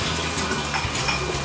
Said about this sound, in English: we're going to be reusing our bung and airlock, although I am going to give them a quick rinse.